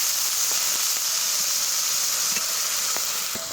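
Water poured into a hot pan of fried green mango makes a loud, continuous steamy hiss and sizzle, close up, with faint crackles and no voices.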